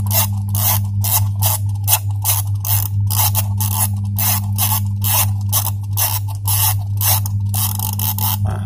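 Dial of a Theben electric timer being turned by hand, producing a rapid, even series of ratcheting clicks over a steady low mechanical hum, close and clear with no talking.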